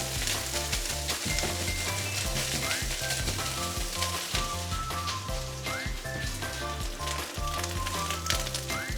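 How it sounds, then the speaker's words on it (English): Cumberland sausage fried rice sizzles loudly in a pan while being stirred, a steady close crackle and hiss with soft scraping throughout and music playing underneath. "Keep stirring."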